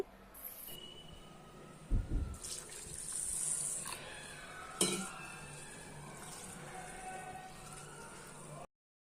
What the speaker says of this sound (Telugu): బియ్యం వేసుకున్న బౌల్లోనే వేసేసి రెండుసార్లు నీట్గా కడిగేసుకోవాలండి వాటర్ తోటి